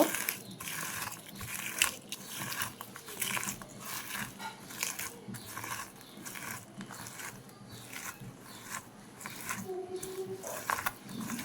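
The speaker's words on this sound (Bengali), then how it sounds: "প্রথমে আমি শুকনা মরিচ আর স্বাদ মতো লবণ দিয়ে এটাকে হাতে ম্যাশ করে নিব" Dried chili and salt are mashed by hand for bharta, producing close, continuous squishing and crunching with rhythmic pressing under a quiet voice.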